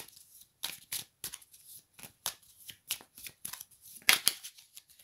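Cards are shuffled for a card reading in a quiet room, a run of quick, crisp riffling bursts in uneven rhythm, close and clear, with no talk.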